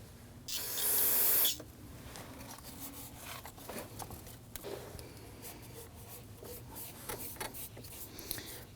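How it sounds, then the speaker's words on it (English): Solvent sprayed onto a rag during a thermostat housing job on a 2009-2017 Volvo XC60 3.2L inline-six: one loud hiss lasting about a second, then quiet rubbing and small handling noises. "We have some spray solvent on our rag."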